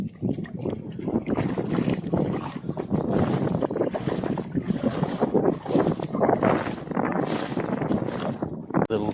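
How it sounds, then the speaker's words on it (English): Wind gusts up along a fishing shore, buffeting the microphone in loud, surging waves of rushing noise that rise and fall continuously, with a voice briefly audible. "That bloody wind's getting up too."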